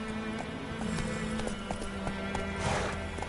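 Roach the horse gallops with quick rhythmic hoof clip-clops and gives a neigh near the end in The Witcher 3: Wild Hunt, close and loud, with a faint voice under it.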